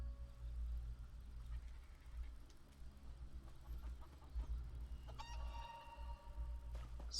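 A spectral chicken in Elder Scrolls Online gives a few bright clucks near the end over a low, rumbling game background.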